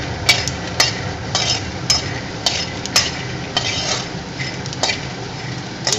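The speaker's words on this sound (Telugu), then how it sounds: "పకోడీ ఇలా ఫ్రై చేసుకుంటూ ఉండాలన్నమాట" Pakoda fritters frying in hot oil, a low sizzle under repeated sharp metallic clinks and scrapes of a utensil stirring in the pan, close and fairly loud, with no talk.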